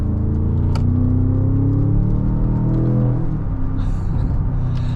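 A 2025 Range Rover Sport SV exhaust under acceleration: a loud, deep, continuous engine rumble that rises in pitch and holds steady for several seconds, with no voices.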